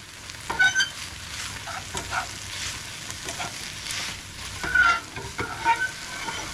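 Snap peas and other vegetables stir-frying in a pan, a soft steady sizzle with intermittent scraping and stirring clatters from a utensil, close and fairly quiet, with no talking.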